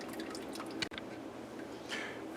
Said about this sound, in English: we'll let that sit and drip through for a few minutes, get all the juicy goodness out of it